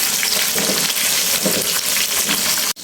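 A spoonful of ginger garlic paste sizzles loudly in a hot pan of chili and cumin paste for spicy liver bhuna, a dense steady frying hiss with light stirring and no voices.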